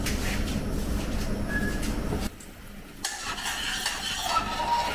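Braised pork rib gravy simmers and reduces in a pan for a Chinese home recipe, giving a steady, close sizzle and bubbling hiss that briefly dips before resuming.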